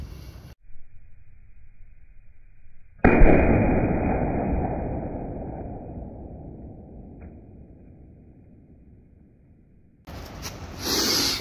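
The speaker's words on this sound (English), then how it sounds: "So let's shoot its ass with a Beowulf." A .50 Beowulf AR rifle fires at a paint can: one loud, sharp blast rings out and fades slowly over several seconds, then a second burst of noise comes near the end, outdoors and close.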